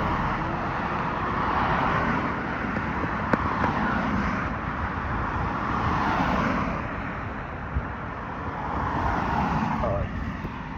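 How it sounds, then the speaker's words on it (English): Cars pass by on a road in Genshin Impact, a steady broadband roadway hum with gentle swells as vehicles move past, under continuous talking. "I gotta wait for some of these cars to pass back and cross."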